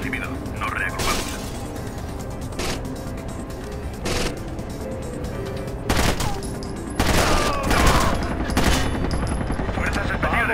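Video game gunfire in Tom Clancy's Rainbow Six Vegas, repeated bursts of automatic fire and single shots in uneven volleys, loud and close, over a combat soundscape with occasional shouted voices.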